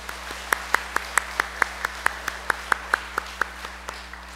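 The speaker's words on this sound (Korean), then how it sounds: "우리 악기팀도 위에서 축복의 박수하겠습니다" A church congregation and instrument team clap together in a steady, even rhythm, about four crisp claps per second, with a low electrical hum underneath.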